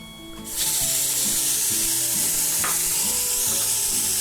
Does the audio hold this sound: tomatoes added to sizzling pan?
yes